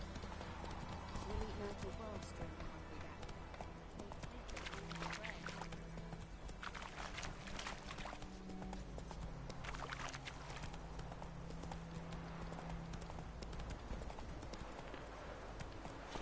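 A horse gallops in The Witcher III video game, with rhythmic hoofbeats clip-clopping steadily throughout beneath game sounds and a voice talking over them.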